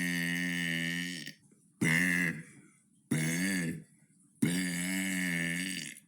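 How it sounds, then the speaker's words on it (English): A person lets out four long, deep, resonant burps in a row, each loud and drawn out, with short gaps between them. "That was day 36 of burping for 100 days"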